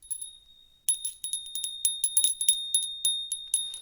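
A tiny hand bell on a small home altar rings close and bright, with a faint tone, a short pause, then a quick run of repeated tinkling strikes, each with a clear ringing sustain.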